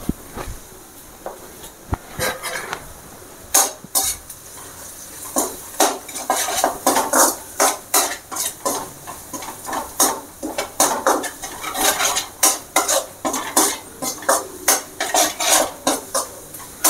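Pepper, cumin, fennel, cinnamon, chilli powder and turmeric being stirred in a pan for apple rasam, with a spoon repeatedly scraping and clinking against the metal over a faint background sizzle.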